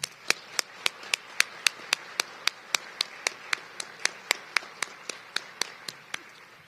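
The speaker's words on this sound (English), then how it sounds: "Now let's give our judges and officials a round of applause." Applause for judges and officials at a state poetry recitation final, heard as a single sharp clap repeating steadily about three times per second, close and distinct against a quiet room.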